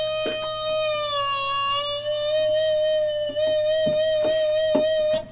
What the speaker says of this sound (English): So we've got this kind of guitar in the background